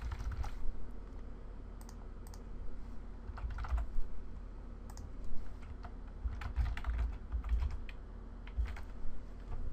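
Typing on a computer keyboard while composing a Gmail message: steady close clicking of keys in bursts and runs, with a low room hum underneath and no talking.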